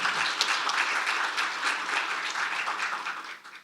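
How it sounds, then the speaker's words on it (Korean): A seminar audience at a CES 2023 K-Startup review and Unicorn Farm startup talk in the National Assembly breaks into steady, dense applause that holds for a few seconds before tapering off at the end. "박수로 맞아 주십시오."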